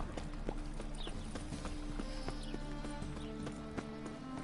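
Horse hooves clip-clopping in a video game, a steady rhythmic trot of hoof beats under a constant background ambience and faint music, with no speech over it.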